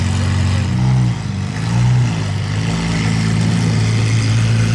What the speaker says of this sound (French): Qu'est-ce qu'elle fait du bruit la SVJ, waouh